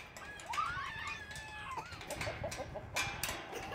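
Hens cluck and warble softly inside a backyard chicken coop, giving a few rising calls followed by a series of short, rhythmic clucks at moderate distance, with no talk.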